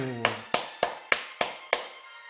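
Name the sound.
congregation clapping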